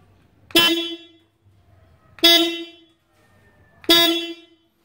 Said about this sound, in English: I love the horn of the R90. It sounds like this.